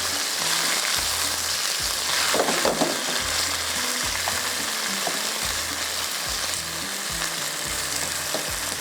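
Capsicum butter fish sizzles steadily in a hot pan, a continuous crackling hiss with occasional stirring scrapes and a low hum beneath, heard up close and without any talk.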